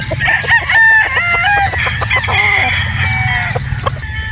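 A straight-comb gamefowl rooster crows loudly and close by, with other fowl clucking around it. No one speaks.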